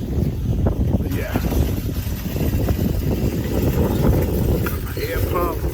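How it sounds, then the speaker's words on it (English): Gusty wind buffets the microphone outdoors beside a parked trailer, a steady low roar running throughout while a person speaks over it. "It's kind of windy out here."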